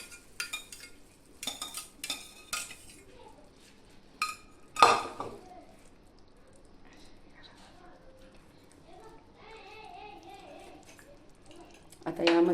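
A metal spoon scrapes and clinks against a kadhai as cooked chukka greens are tipped in and stirred, with scattered clattering bursts separated by quieter stretches while a person talks.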